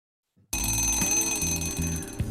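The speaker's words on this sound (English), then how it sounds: "We wake up in the morning at the sound of the alarm." An electronic alarm clock beeps loudly and continuously in a fast, repeating pattern after a brief click, with no voices.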